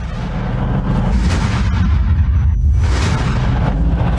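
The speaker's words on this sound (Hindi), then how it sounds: "इजराइल का चौथा मरकवा टैंक भी आरपीजी की मदद से उड़ा दिया गया" An RPG strike hits an Israeli Merkava tank, producing a loud, sustained, heavy blast rumble that fills the whole stretch without letup, with no speech over it.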